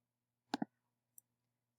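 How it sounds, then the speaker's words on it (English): Computer mouse clicks, a quick close double click followed by a faint single tick and another click starting at the end, in otherwise near silence. "Click, shift and click."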